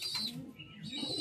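A Bangladeshi Pankhi pigeon coos in short, soft bursts, fairly faint and close, with no voices.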